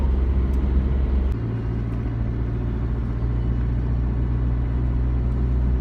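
Steady, loud interior rumble of a car driving along a road in rural Paraguay, a constant low engine and tyre drone with a slight shift in tone partway through and no talking.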